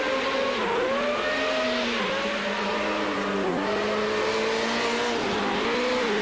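A 1992 sports car racing at Monza slides sideways in oversteer, its engine note holding steady and close with shifting pitch over several seconds, joined by a sustained tonal whine that could be tires scrubbing across the track.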